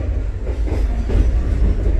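Inside the carriage of an Indonesian luxury passenger train, a loud, close, low rumble of wheels on rails rolls on without a break, with faint rhythmic clatter and no voices.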